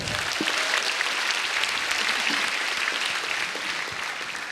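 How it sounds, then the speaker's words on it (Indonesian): A stand-up comedy show crowd in Indonesia gives comedian Zawin a steady round of applause, thick continuous clapping from many hands at moderate volume, slowly easing off toward the end. "Jadi sekali lagi tepuk tangan buat Zawin"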